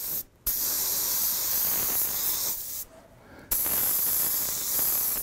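Airbrush spraying paint heavily into the corners of a fire design with a stencil, producing a close, loud, continuous hiss that twice cuts out briefly before resuming.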